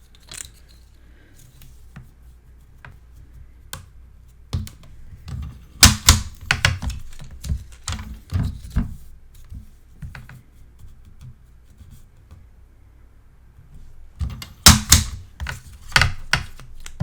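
Paper pieces for a Stamperia Passion mini album being cut to length, giving scattered crisp snips and cutting clicks with quiet pauses between and a denser burst of cuts toward the end.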